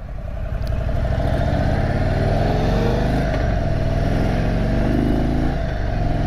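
Indian Super Chief motorcycle engine running steadily while riding, a loud continuous low rumble with wind noise and slight shifts in pitch as it cruises, no talk.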